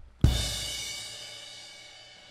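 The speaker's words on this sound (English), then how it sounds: "This one right here is called a crash cymbal." A single crash cymbal on a drum kit hit once, a bright splashy wash that shimmers and fades slowly over a couple of seconds, heard alone.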